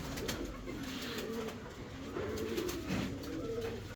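Fancy pigeons kept for sale coo softly close by, a few low, rolling, throaty calls rising and falling in soft repeated phrases over a quiet background.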